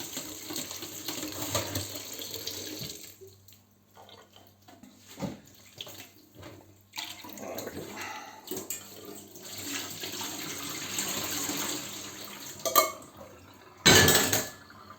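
Food being rinsed under a running kitchen tap during cooking prep, a steady close splashing stream in the sink with brief clinks of dishes and a louder gush near the end.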